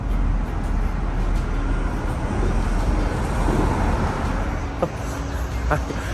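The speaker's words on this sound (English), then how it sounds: "the traffic here is extremely loud" Loud street traffic in Richmond, Virginia, a constant heavy roar of passing vehicles close by, with a couple of brief clanks near the end and no clear talk.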